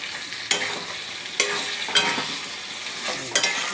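Chicken frying in oil with cumin and ginger paste, a steady close sizzle punctuated by several sharp scraping stirs of a spatula against the pan, with nobody talking.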